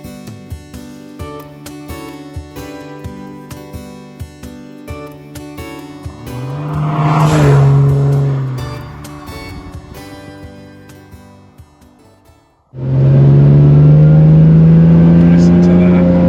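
An Aston Martin DB7 engine revs up, swelling to a loud roar that fades, then bursts into a sustained loud rev near the end, with people talking softly underneath at first.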